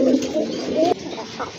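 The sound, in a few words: male pigeon cooing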